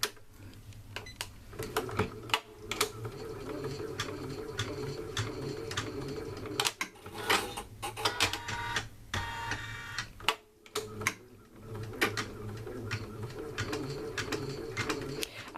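An embroidery machine stitches a patch with a fast, rhythmic mechanical ticking and whirring, interrupted by short pauses and brief bursts of faster buzzing, heard close up.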